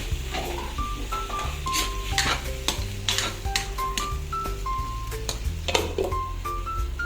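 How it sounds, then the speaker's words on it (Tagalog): Carrots sautéing in a pan with chicken for pancit, giving a steady sizzle with scattered scraping stir strokes, partly covered by a looping music melody. "salang nyo yung carrot mga boss, mga kangkol. Toast nyo ng konti"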